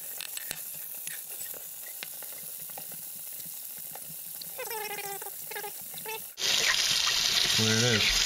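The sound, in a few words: warm tap water rinsing etched pint glasses in sink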